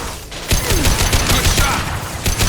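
Rapid gunfire in Mass Effect 2, a steady run of loud, close shots and bursts lasting several seconds with no talk over it.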